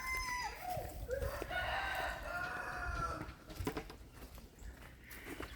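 Hatchery chickens outdoors clucking and a rooster crowing, calls overlapping in a busy run of fowl sounds that fades to scattered clucks with some patter and background noise.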